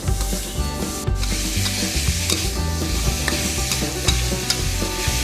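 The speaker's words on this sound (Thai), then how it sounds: "ผัดคลุกเคล้าไปเรื่อยๆเลยนะครับ จนกว่าเนื้อจะสุก" Pork and shrimp stir-fried with sataw beans and shrimp paste in a pan, loud continuous sizzling with constant close scraping and tossing of the spatula against the pan.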